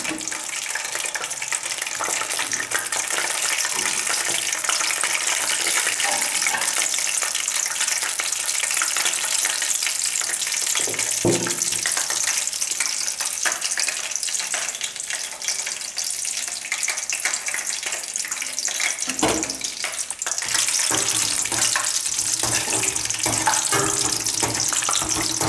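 Cashew nuts roast in a pan until golden for roasted gram ladoo, a dense continuous sizzle with occasional scraping stirs, close and loud throughout, with no one speaking.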